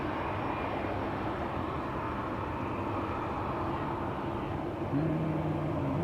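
A propeller aircraft engine drones at Schiphol's Polderbaan runway, a steady, broad, distant roar that holds throughout with no talk.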